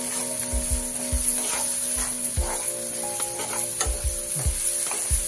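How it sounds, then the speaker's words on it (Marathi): Spices fry in a hot pan for homemade fried rice, giving a continuous steady sizzle with scattered clicks and stirring scrapes, close and moderately quiet, with no talking. "आता हे मसाले छानपैकी आपण फ्राय करून घेणार आहोत."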